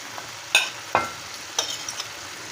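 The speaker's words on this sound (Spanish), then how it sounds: "Vamos a echarle las zanahorias" Chopped carrots go into a hot pan for a Spanish chicken and meatball stew, giving a soft sizzle with a few distinct clatters and stirring knocks spaced out over a couple of seconds, no talking.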